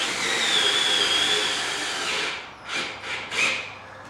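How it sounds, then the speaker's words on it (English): A powered driver sets a screw through the side of a Club Car Diamond Plate rocker on a golf cart, a steady whirring buzz over about two seconds, then several short bursts as the screw seats, close and fairly loud. "next we'll just take the screw and run it straight through"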